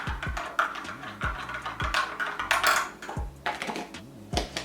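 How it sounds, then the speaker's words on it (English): A spoon clinks repeatedly against a cup while stirring instant dark roast coffee, producing sharp, rhythmic taps close by with no talk. "And then I'm just gonna stir that up."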